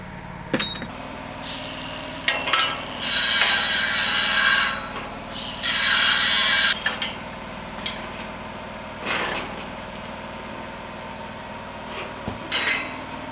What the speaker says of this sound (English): she grinds away and shortens those stubs down so it's not sticking out 2 inches.